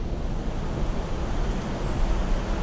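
Wahkeena Falls, a waterfall beside a trail near a creek bridge, gives off a steady, dense roar of rushing water that holds at an even level throughout, with no voices heard.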